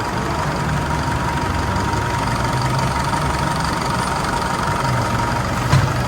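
A repaired vehicle engine sits idling after the fix, a steady low mechanical drone with a faint knocking texture that holds even throughout, with a small bump near the end.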